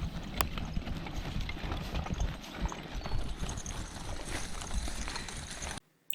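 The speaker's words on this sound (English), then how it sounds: "you got 4 big horses walking in front of you" Four big draft horses walk together, their hooves clopping steadily and close over a dense outdoor rumble, with no voices.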